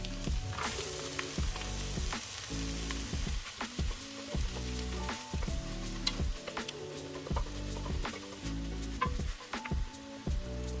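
Beyond Meat plant-based crumble sizzles steadily in a hot pan with dehydrated mushrooms for a vegetarian tamale pie, a continuous close frying hiss broken by rhythmic stirring scrapes and occasional ticks.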